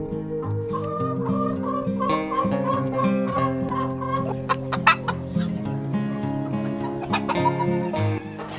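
A flock of chickens clucks and murmurs steadily nearby in a chicken coop, with overlapping calls and a few sharper squawks, no talking.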